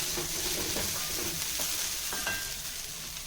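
Tamarind water poured into a sizzling pan of village-style pepper kulambu, giving a steady frying hiss with faint stirring scrapes and a few light clinks, close and continuous.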